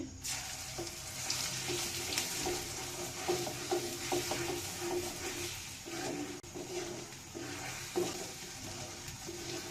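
Garlic paste, dried red chillies and whole five-spice frying in oil for an olive pickle, a steady sizzle with intermittent clinks and scrapes of stirring.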